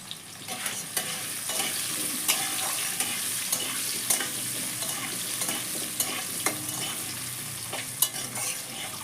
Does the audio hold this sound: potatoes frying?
yes